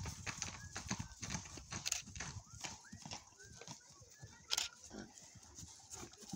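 Horses' hooves clip-clop on an afternoon trail ride near Toulon-sur-Arroux in September, a busy uneven rhythm of several animals close by, with people talking quietly over the steps.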